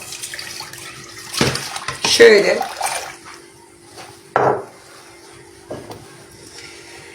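Boiled village milk pours with a gurgling splash into a metal pot, followed by a few clinks and clunks of cookware; a voice speaks briefly in Turkish.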